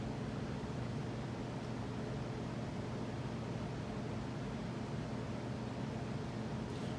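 1983 Evergo Roma 52-inch ceiling fan spinning at about 230 RPM with 13-degree blade pitch, a steady, even whooshing air rush with a faint low hum, constant and unbroken.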